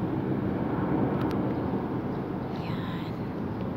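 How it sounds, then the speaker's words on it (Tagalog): An airplane passes near Hong Kong airport, heard as a broad, steady roar with gusty wind noise blowing over the microphone. "maingay yung eroplano. Kasi malapit lang kami sa airport."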